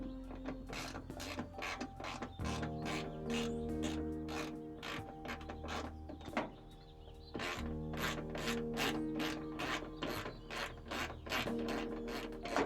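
A ratchet wrench works a bolt on the hood hinge of a Toyota Tundra, clicking rapidly and evenly up close in long runs that break off briefly in the middle and then resume.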